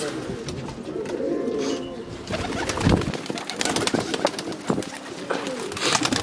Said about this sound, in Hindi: ये हमारा प्रवासी कबूतर का सेटअप है, ये कबूतर है हमारे प्रवासी सारे।